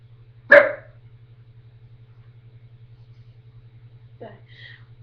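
A single sharp dog bark rings out over a steady low hum, followed after a pause by a fainter, shorter yelp.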